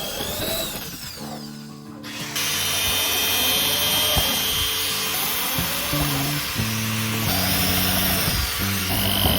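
A power drill bores holes into PVC pipe for a folding clothesline, giving a loud continuous whine that shifts in pitch as the bit bites, close and without speech.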